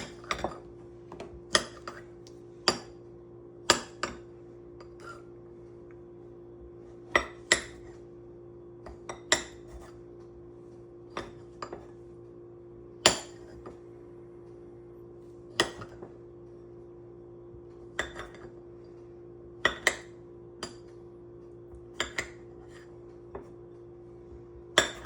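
A knife taps sharply against a cutting board while an avocado is sliced for steak fajitas, making irregular clicks and knocks over a low steady background hum.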